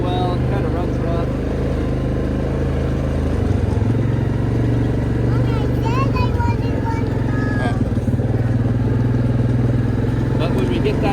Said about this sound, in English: it doesn't idle well, it kind of runs rough